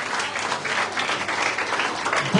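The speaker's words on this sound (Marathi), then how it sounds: "जोरदार टाळ्या मंडळी." A crowd applauds at a prize announcement for fort-building and rangoli competitions, a sustained, even wash of many hands clapping at moderate loudness throughout.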